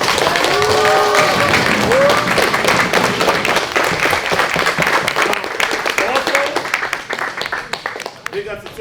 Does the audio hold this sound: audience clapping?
yes